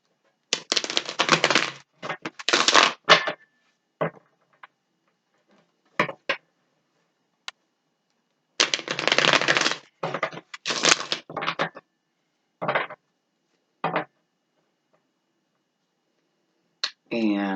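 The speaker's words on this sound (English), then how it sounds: "Give it a couple shuffles." Short bursts of crisp riffling as tarot cards are shuffled several times, separated by quiet pauses.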